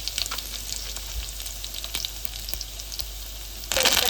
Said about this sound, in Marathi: मी तेल टाकत आहे, त्यानंतर आपण यात टाकणार आहोत राई, लसूण, त्यानंतर टाकणार आहोत जिरं